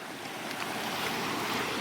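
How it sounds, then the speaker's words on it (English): Steady broadband rush of flowing river water at the Robinala river near Haflong, continuous and fairly loud with wind-like texture, no talking. "we finally reached the river"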